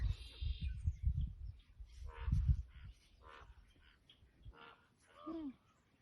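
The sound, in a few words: raven calling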